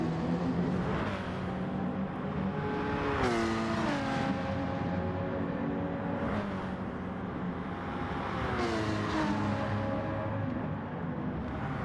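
Race cars, an Audi and a BMW, roar along a track in a continuous loud engine drone, with pitch rising and falling through repeated gear changes and a sweeping pass near the end.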